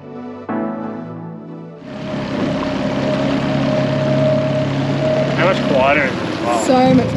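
A steady low drone from an idling boat outboard motor runs throughout on a Cape York freshwater trip, with people talking loudly over it.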